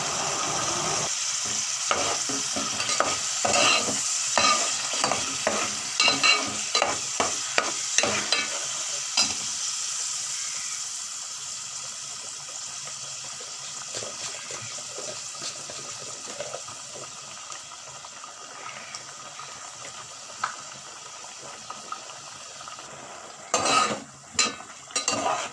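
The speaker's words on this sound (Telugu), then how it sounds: "ఆనియన్ పేస్ట్ ఫ్రై అయింది." Onion paste sizzles and fries in a pan for mutton curry under a steady close hiss, with repeated stirring and scraping scrapes early on and a few more near the end.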